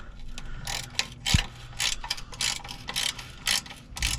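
A ratchet tightens bolts on a SAAB 9-5 during a headlight level sensor replacement. The close, crisp bursts of rapid pawl clicking repeat in short strokes with a single thunk partway through.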